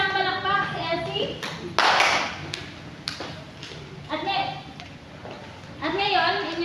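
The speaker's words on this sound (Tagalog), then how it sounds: "Bigyan ng isang palakpak si Elsie." A classroom of children claps for a classmate in a short burst of applause, set among an adult's speech.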